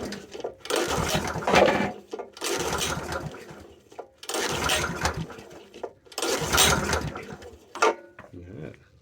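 The small petrol engine of a Belle Midi 20-140 hydraulic power pack is pulled over repeatedly in a workshop. Four long, rough mechanical bursts are separated by brief pauses, loud and close, and the engine does not catch.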